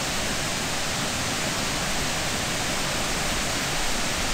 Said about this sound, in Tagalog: Lami kayo paminahon ang sound sa falls guys